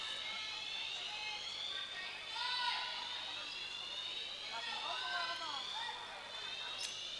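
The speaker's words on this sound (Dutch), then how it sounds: "Nou, er gaat een brandalarm af." A fire alarm goes off in a sports hall during a ball game, a faint, steady electronic tone with wavering pitch sounding far off under low room noise and a murmuring voice.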